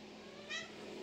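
A female cat in heat gives one short, low mumbling meow partway through, quiet and close against a faint room hum, with no other voices.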